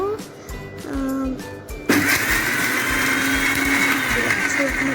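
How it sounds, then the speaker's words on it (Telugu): An electric mixer grinder whirs as it grinds almonds for badam halwa, loud and close, starting in short bursts before settling into a steady high-pitched roar, with a voice talking over the start. "ఇక్కడ చూపిస్తున్న విధంగా గ్రైండ్ చేసుకోండి"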